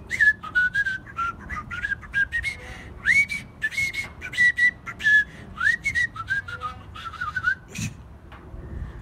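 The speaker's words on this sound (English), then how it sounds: "Another one is to whistle while you're smiling." A person whistles while smiling, with the tongue curved up toward the roof of the mouth, giving a run of short, bright, warbling notes that rise and fall in quick bursts and stand alone without speech.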